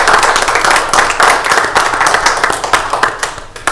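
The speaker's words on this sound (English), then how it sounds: "A round of applause for the first women to lead Willoughby Hills." An audience at a county commissioners meeting claps loudly and continuously for a newly honored first woman leader of Willoughby Hills, dense applause close by with no speech.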